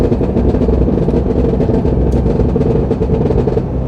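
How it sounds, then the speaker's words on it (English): A 2023 Cadillac Escalade-V's engine revving loudly through an aggressive downshift, a dense, gruff roar with rapid pulsing crackles that stays close and continuous throughout. "This is probably the most aggressively downshifting car."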